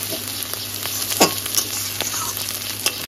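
Taro stolons sizzle in a small amount of oil while being fried with shrimp, a steady close crackle with a few soft stirring scrapes, and no voices.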